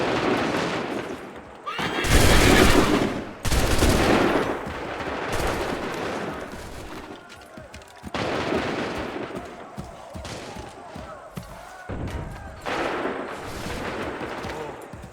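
Musket volleys fired on command in Assassin's Creed III, loud broadband bursts around two and four seconds followed by further scattered shots, with battlefield din and horse whinnies in the background.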